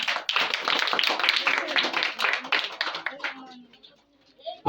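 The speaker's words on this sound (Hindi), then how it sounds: "आप लोग तालियां जरूर बजाएं।" Dense clapping from a crowd at a Children's Day prize-giving at a coaching centre rattles along for a few seconds, then tapers off as a voice is heard.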